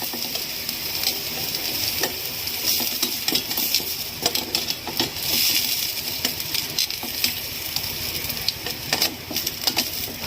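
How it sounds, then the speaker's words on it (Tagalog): Steady, dense sizzling of garlic and onion sautéing in a hot pan for chicken puchero, with occasional scrapes and clinks of a utensil stirring. "Dito na tayo mag-prito ng bawang sibuyas. Gigisa na natin siya."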